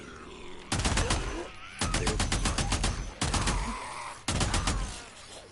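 Loud automatic fire from an AK rifle in the video game Days Gone comes in four sustained bursts, each a rapid, steady rattle of shots separated by brief pauses, close and dominant throughout.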